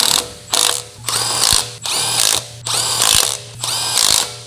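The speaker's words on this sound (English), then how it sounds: "Using the large 23mm short socket, large short extension bar, and large electric impact wrench, snug the front wheel lug nut." An electric impact wrench with a 23mm short socket and extension snugs a Dodge Ram 1500 front wheel lug nut, firing in six loud, close bursts of rapid hammering separated by brief pauses.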